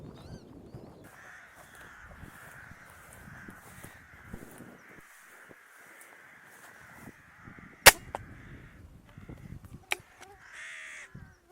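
Crows caw repeatedly at a distance in a rural setting during an air-rifle pest hunt, a series of hoarse calls spread over several seconds, followed by two sharp, loud air-gun shots.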